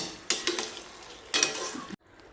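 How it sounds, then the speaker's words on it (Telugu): Bread halwa mixture being stirred in a pan after adding colour, two soft scraping strokes with a faint sizzle, then silence. "ఒకసారి అలా కలిపేసేయండి కలర్ వేసిన తర్వాత"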